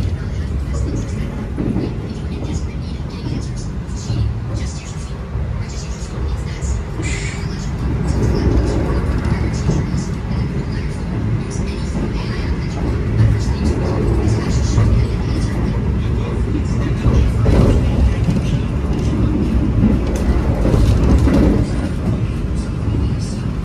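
Inside the KAI Taksaka train running from Jakarta to Jogja, a continuous low rumbling roll of wheels on track, steady throughout, with a voice talking over it at times.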